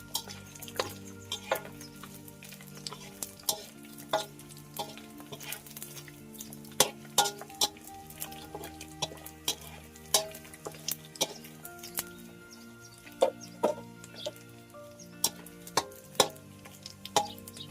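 Fish frying in a pan in a rural home kitchen: a steady crackling sizzle under sharp clicks and taps of utensils against the pan, fairly close, with a low hum running beneath.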